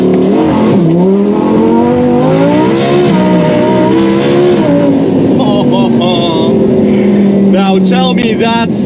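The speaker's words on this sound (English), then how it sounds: "you can just hear that we have like a little bit of wheel spin" A Lamborghini Huracan doing a launch control start with slight wheel spin: a loud, close engine roar climbing in pitch through several upshifts, with tire noise underneath.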